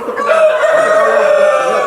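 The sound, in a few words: tiger chicken rooster crowing on farm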